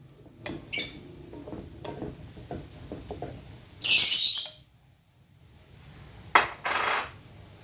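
Mixed vegetables stirred in a cooking pan for arroz valenciana, giving scattered utensil clinks and scrapes, with a couple of louder bright clattering bursts standing out over a quiet background.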